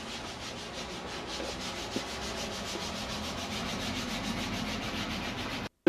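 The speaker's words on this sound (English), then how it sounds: "once we sand off the black, the surface will be smooth again" Steady, continuous sanding as black paint is taken off a rusty Chevy car fender, a close, even rasping scrape that holds at the same level for several seconds with no talking, stopping abruptly right at the end.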